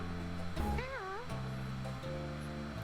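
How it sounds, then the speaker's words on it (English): In the video game Pyre, the Drive Imp creature gives a wavering, meow-like screeching call over a continuous background music bed, with a short cry and then sustained tones. "perhaps you can derive some meaning from his calls and screeches"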